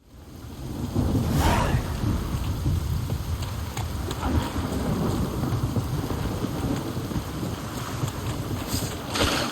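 Steady rain pours in The Witcher 3 with a low rumble of thunder beneath it, heavy and continuous for the full stretch, with brief louder swells near the start and end.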